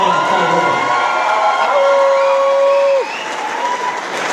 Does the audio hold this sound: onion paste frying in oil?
no